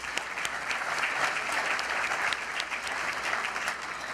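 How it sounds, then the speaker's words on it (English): Steady, dense applause from a conference audience honoring a morning panel, filling the whole stretch at an even level with no voices on top. "One more round of applause for them, please."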